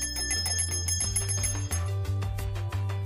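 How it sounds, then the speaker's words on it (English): A real metal bell driven by a motor shield on a Touch Board, an Arduino Leonardo-based board, rings in rapid repeated strikes, bright and close with ringing overtones, alone and without talk. "You could add a motor shield and ring a real bell."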